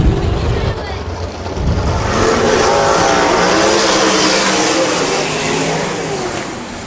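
Dirt-track speedway race cars roar back to full throttle at a restart during A-main racing, a loud, dense engine drone that rises and holds as the field accelerates, with a commentator's voice partly mixed in.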